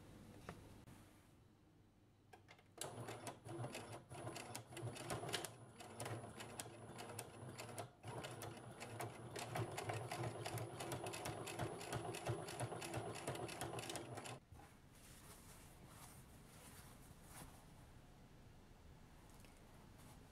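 Sewing machine stitching a seam along fabric edges for beginner patchwork, running in a steady rapid mechanical rattle for about twelve seconds before stopping, with quiet handling noise before and after.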